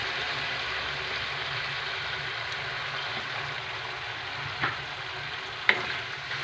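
Chopsuey stir-frying in a pan with soy sauce, a steady loud sizzle with scraping stir strokes and a couple of sharp utensil clinks, close and continuous.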